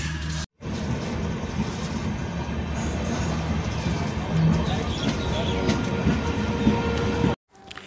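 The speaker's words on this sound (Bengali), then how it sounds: "একদম নির্ধারিত সময় 1:45 ট্রেনটি বামনহাট রেলওয়ে স্টেশন থেকে ছেড়ে দিল" A new LHB-rake Uttarbanga Express rumbles out of Bamanhat railway station, a steady close rolling roar and rattle of the coach that runs continuously after a brief dropout near the start.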